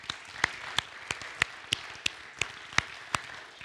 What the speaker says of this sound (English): let's give a round of applause for that as well